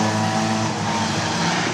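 Stock cars racing around the oval track at Arlington Stadium, a loud continuous engine roar with the pack droning steadily past.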